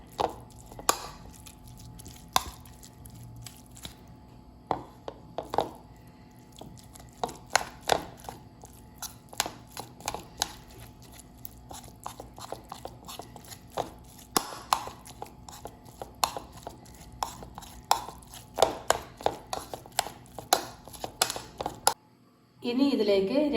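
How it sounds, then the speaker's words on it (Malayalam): Soaked poha being mashed with a spoon in a bowl, giving a run of soft, close, irregular squishing taps and scrapes that continue steadily at low volume. "ഇനി നമുക്കിനി ഇതിനെ സ്പൂൺ കൊണ്ട് നന്നായിട്ട് സ്മാഷ് ചെയ്തെടുക്കാം"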